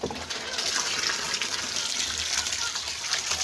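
Water gushes steadily into a rubber container holding fish fingerlings outdoors by a pond, a continuous, close, splashing pour.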